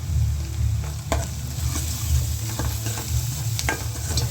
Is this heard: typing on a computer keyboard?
no